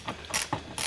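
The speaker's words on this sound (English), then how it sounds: "You have to back it up with a open end wrench, pull it off with a socket" Socket wrench ratcheting on a 10 mm nut during dash removal on a Mercedes 300D, a few quick close clicking bursts in rapid succession with no talk.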